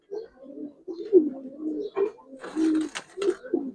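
Giribaz pigeons coo in a series of soft, rolling low calls that repeat steadily across the recording, close by, with some brief brighter rustles partway through.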